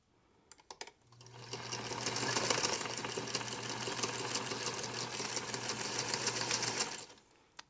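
A sewing machine stitches down a crossbody purse in one steady, continuous buzzing run of about six seconds, close and clear, after a few soft handling clicks.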